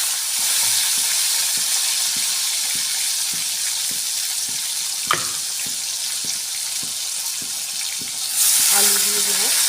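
Tomato goes into hot oil with vegetables and green chilli for a thin fish curry, a loud close sizzle that holds steady with faint rhythmic ticking, a sharp clack midway, and a brief scraping stir near the end.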